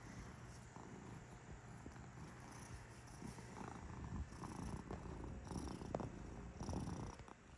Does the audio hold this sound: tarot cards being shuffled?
no